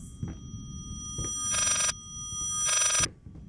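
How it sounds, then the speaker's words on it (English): An old-fashioned telephone rings twice in the Layers of Fear video game, two bright metallic bell bursts of about half a second each, close and loud over a dim ambient hum. "Is that a phone?"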